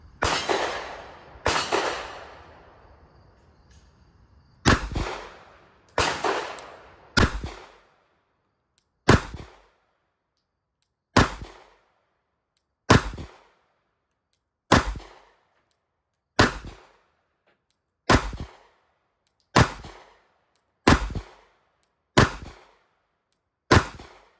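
Pistol shots from a Ruger LCP Max firing Norma 115 grain practice ammunition, about fourteen sharp cracks, the first few quick and closely spaced and the rest steady and evenly paced, loud and outdoors with a short decay after each.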